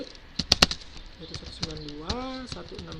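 A few close keyboard clicks as an IP route command is typed, followed by a gliding tonal sound and some background noise.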